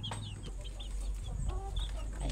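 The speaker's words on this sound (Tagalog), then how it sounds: "Ayan guys, 15 pieces na 45 days na manok." Small flock of fifteen 45-day-old chickens clucking and peeping in a soft, scattered chorus close by over steady low background noise, with no talking.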